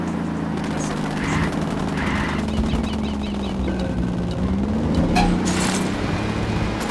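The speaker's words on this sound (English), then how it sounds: "I'm opening fire." Ghost Recon Wildlands gunfire, rapid automatic bursts popping over a constant droning vehicle engine, with the shots fairly distant and partly buried in the rumble.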